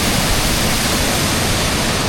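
Huay Kaew waterfall near Chiang Mai roars in a loud, steady, unbroken wash of falling water, heard up close with no voices.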